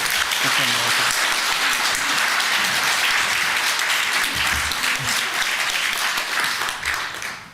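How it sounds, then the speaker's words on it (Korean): A church congregation claps in a sustained, full round of applause welcoming a pastor, fading slightly at the end, with a voice briefly audible underneath. "격려하면서 박수로 좀 맞았으면 좋겠습니다"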